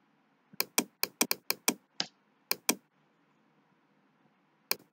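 Date of birth typed on a computer keyboard: two quick bursts of sharp, close key clicks in an uneven rhythm, a short pause, then two isolated taps near the end, with no talking.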